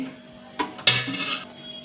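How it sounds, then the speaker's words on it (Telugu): A metal tempering pan set down on a kitchen stove for seasoning tomato peanut chutney, two short metallic clanks with a brief ringing clatter, close by and alone. "ఈ చట్నీకి పోపు గిన్నె పెట్టుకున్నానండి"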